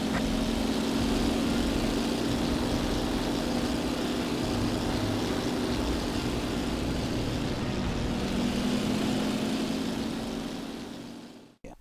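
A WWII propeller plane in Damage Inc. Pacific Squadron, its engine droning loud and steady with a constant buzzing tone for several seconds before cutting off abruptly.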